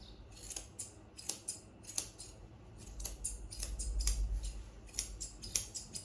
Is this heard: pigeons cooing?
no